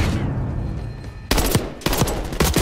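Automatic gunfire from the shooter Call of Duty: Black Ops 6, a loud close string of rapid shots, a brief lull, then several more sharp bursts, with no talking.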